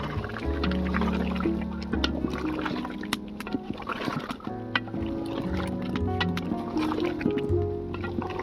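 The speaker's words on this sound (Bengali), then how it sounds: "এবারে ভেজে রাখা আলুগুলো দিয়ে আবার কষিয়ে নেব।" Chicken and fried potatoes sautéing together in a pan give off a steady sizzle, with scraping and stirring knocks from a utensil running through it.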